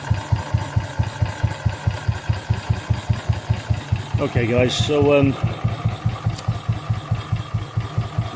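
A BSA B31 motorcycle single-cylinder engine idles slowly with a steady, loud, even thump, and someone speaks briefly over it midway.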